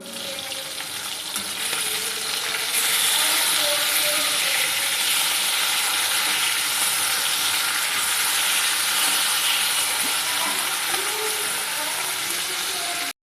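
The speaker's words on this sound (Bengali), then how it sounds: "এবার মাছটা ভেজে নিই" Rohu fish frying in a pan gives a loud, continuous hiss and sputter of hot oil that swells after the first couple of seconds and holds steady, close up and with no one talking.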